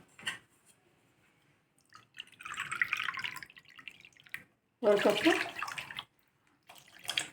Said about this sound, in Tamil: ஒரு ஒன்றரை கப்பு அளவுக்கு தண்ணி விட்டுருக்கேன் இதில்